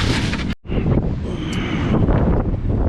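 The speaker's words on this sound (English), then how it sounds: "Wind's blowing." Storm wind gusting across a beach, a steady broadband rush buffeting the microphone close up, with a brief dropout near the start, then continuous blustery roar.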